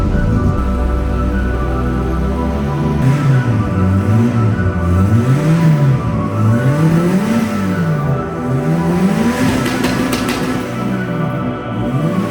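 A VW Polo MK2F van, off the road for nine years, drives outside with a loud, close engine note that rises and falls repeatedly as it revs and moves, with no talk.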